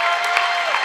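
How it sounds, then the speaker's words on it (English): A crowd in a high school gym at a boys' varsity basketball game claps and cheers for departing seniors, a brief burst of steady, close applause with scattered shouts. "Everyone at Ellenwood giving them a round of applause"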